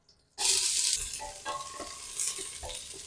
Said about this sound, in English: In go your onions.